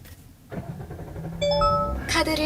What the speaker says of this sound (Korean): 지금 같은 경우는 시동이 바로 거의 한 번에 걸렸잖아요